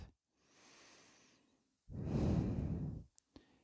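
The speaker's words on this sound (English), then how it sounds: "take a moment to pause and to breathe" Slow, deliberate breathing during a yoga stretch: a soft, airy inhale followed by a fuller, louder exhaling sigh, close up with a brief sniff at the end.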